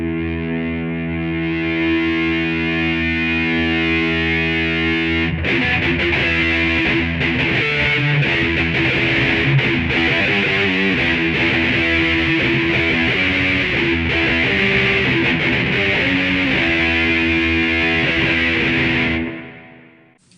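An electric guitar plays through a Roland Micro Cube GX amp at an extreme distorted setting with reverb, sustained chords and riffs ringing loudly for about twenty seconds before cutting off.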